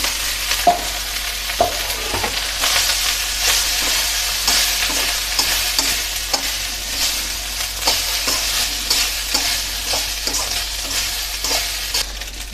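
Cooked rice is stirred and fried in a spiced tempering with turmeric and salt for cumin fried rice, a steady close sizzle broken by frequent scraping and clacking of a spatula against the pan.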